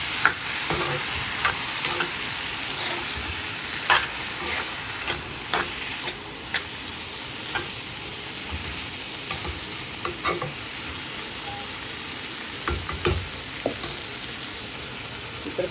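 Tomato and dried fish curry fries in a pan under a steady close sizzle, with repeated scraping stirs and clicks of a utensil against the pan throughout, and no talking.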